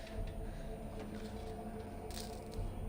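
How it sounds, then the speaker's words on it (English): A plastic water bottle full of ice is squeezed close by, giving a faint continuous crinkling and crackling of plastic and ice over a low background hum. "I'm squeezing my water bottle and crackling all the ice that's in it"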